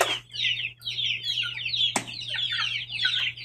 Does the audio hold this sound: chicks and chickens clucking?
yes